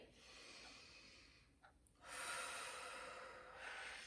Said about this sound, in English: Deep breath in, make sure your hands are both rising.